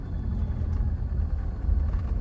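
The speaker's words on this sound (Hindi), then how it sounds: "अब नॉर्मल गाड़ी मेरी यहाँ पे आ गई चढ़ाई पे" A car climbing an uphill incline, a low steady engine rumble heard from inside the cabin throughout, with no voices.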